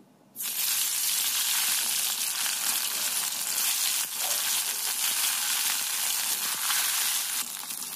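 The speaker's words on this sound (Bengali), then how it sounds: "এবার বেগুনগুলোকে তেলের মধ্যে ভেজে নেব।" Eggplant pieces coated in gram flour and turmeric drop into hot oil with a sudden sizzle that becomes a loud, steady, crackling fry lasting throughout, close up with no voices.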